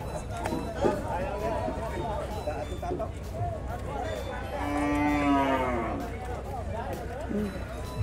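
Cattle and water buffalo at a livestock stockyard let out a long mid-range low, rising out of a busy background of people talking and yard noise.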